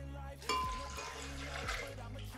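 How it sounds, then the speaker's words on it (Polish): Water poured into a blender with chopped pumpkin, apple and carrot for a smoothie, a steady close splashing pour with a brief louder gush at the start, heard alone without talk. "Wlewamy wodę."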